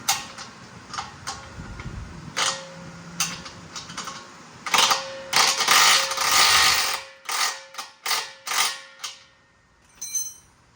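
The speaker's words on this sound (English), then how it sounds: "I'm going to have to grab a 17 wrench and a 18 socket. And just snug these up, nothing crazy." A 17 wrench and 18 socket snugging nylon lock nuts in a motorsports shop: a close-up run of metallic ratchet clicks, brief bursts and longer stretches of rapid clicking, ending with a few lighter taps.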